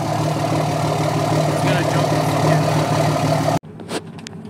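A Dodge Cummins 5.9 diesel pickup idles close by with a steady, low rumble that cuts off abruptly near the end, followed by faint shuffling.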